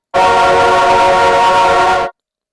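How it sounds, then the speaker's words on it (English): A distorted orchestral voice sample: a dense, harsh, heavily distorted sustained tone with strong harmonics, held steadily for about two seconds before cutting off abruptly. "And this is the fun part, distortion."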